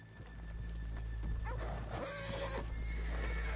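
A horse in the video game Red Dead Redemption 2 lets out a loud, close whinny amid soft hoof clip-clops on a town street, all within a few seconds.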